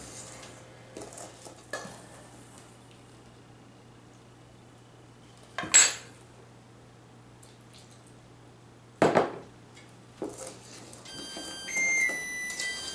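Donut batter with flour is mixed slowly in a bowl, giving soft scraping and stirring sounds over a faint steady hum, broken by a few sharp knocks of the utensil against the bowl.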